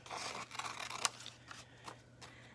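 Scissors snip through colored paper for a paper turkey craft, a quiet run of close, crisp cuts with one sharper snip in the middle and a few more trailing after.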